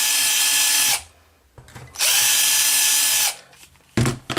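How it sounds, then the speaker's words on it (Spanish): A power drill with a 6 mm metal bit whines loudly in two long bursts separated by a pause, then starts briefly again near the end, each run ending abruptly. "los agujeros los hemos vuelto a hacer con una broca para metales de 6 milímetros"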